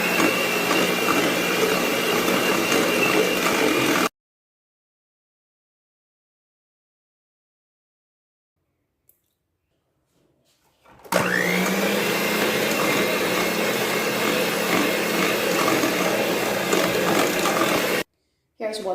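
An electric mixer whirs steadily while beating eggs into sweet potato pound cake batter, a loud continuous motor drone that stops for several seconds of silence and then starts up again.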